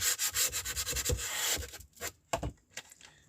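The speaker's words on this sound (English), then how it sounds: "I use sandpaper." Sandpaper rubbed by hand over a curiosity cabinet piece, quick rhythmic scratchy strokes close to the mic, then a few slower separate rubs toward the end, with no talking.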